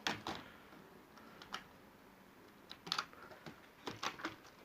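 A keyboard is prised out of a Lenovo G580 laptop, giving faint, scattered plastic clicks and taps with quiet gaps between them, close by and with no talking.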